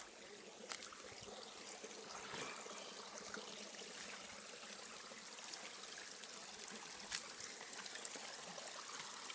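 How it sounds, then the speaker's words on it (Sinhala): A stream of water flowing through a jungle, a steady, soft trickling and gurgling that runs continuously at a fairly even level, with no voices over it. "ලස්සනට වතුර පාරක් ගලාගෙන යනවා"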